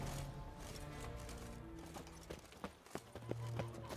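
Roach, the horse in The Witcher 3, trotting with uneven hoof clops that sharpen toward the end, set against a low game ambience and faint background murmur.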